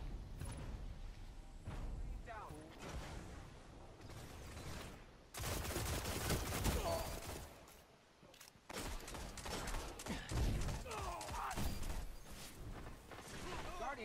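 Gunfire from a shotgun-wielding character during a multiplayer battle in an asylum-themed video game: bursts of rapid shots come in clusters, fading between volleys, with a voice talking over them.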